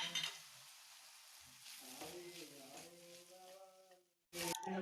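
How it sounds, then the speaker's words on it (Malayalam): Shredded chicken sautéed with spices in a pan gives a soft, steady sizzle and occasional stirring, faint beneath a voice, then cuts off sharply before a brief louder burst. "നമ്മൾ പിച്ചിയിട്ട ചിക്കൻ ചേർക്കുക. അത് നന്നായി വഴറ്റി മാറ്റി വെക്കുക."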